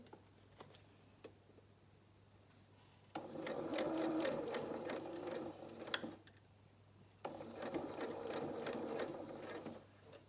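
Sewing machine stitching around the curve of a pocket on children's shorts or dungarees, two sustained bursts of fast rhythmic needle clatter, close and loud, separated by quiet pauses with faint ticks.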